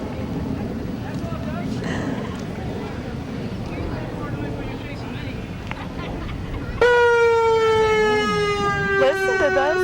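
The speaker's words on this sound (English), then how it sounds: "Listen to those sirens." A crowd murmurs outdoors, then a loud wailing siren suddenly starts and holds a steady falling tone over the chatter.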